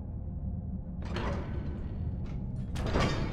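In Skyrim, a Dwarven ruin door grinds open with a mechanical scraping rumble and clanking bursts over a constant low background hum, moderately loud and without speech.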